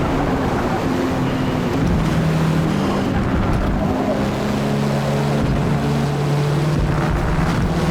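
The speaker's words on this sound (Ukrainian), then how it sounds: "лише шум вітру, муркотіння двигуна та шурхіт шин по треку" Steady wind rushes over a droning race car engine in the Forza Motorsport racing video game, its pitch rising and falling, loud and continuous with no other sounds.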